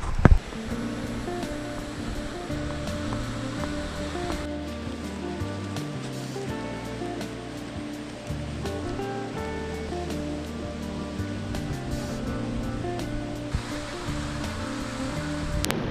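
Sea waves washing over a rocky shore at Bungol in Pinamalayan, Oriental Mindoro, a soft continuous surf wash, fairly faint, with background music tones running underneath.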